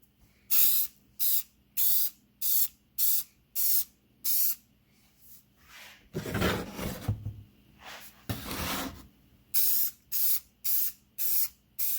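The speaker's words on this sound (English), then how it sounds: "I'm going to go ahead and spray paint these black and use those" A spray paint can coating door hardware black, loud close hissing bursts in a quick regular series, then two longer sustained sprays, then another run of short even bursts.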